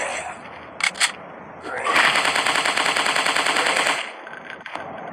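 Rapid automatic gunfire rattles for about two seconds in a dinosaur-hunting shooting video game, preceded by a couple of short sharp shots, loud and close with a brief electronic tail.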